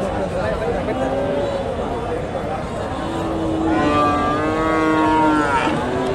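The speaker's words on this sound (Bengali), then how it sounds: "সুন্দর এক জোড়া ষাঁড় গরু দেখতেছি, ফ্রিজিয়ান ক্রস ব্রিডের" A pair of Friesian cross bulls moo loudly and nearby at a cattle market, a couple of long drawn-out calls, while people chatter in the background throughout.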